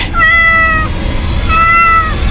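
In a Hindi horror audio drama, a human voice imitates a cat, giving two loud, close, drawn-out meows separated by a short pause.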